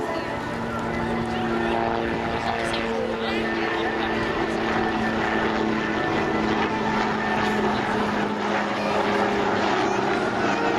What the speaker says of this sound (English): a single-engine light attack and observation helicopter with a 4-bladed main rotor